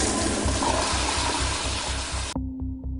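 An automatic toilet flush roars in a movie washroom, a loud rushing of water that cuts off abruptly near the end, leaving a low hum.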